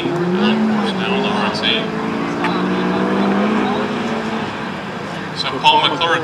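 A Mazda RX-8 race car in the STU class runs an autocross course, its engine revving and shifting at a moderate distance while an announcer talks over it.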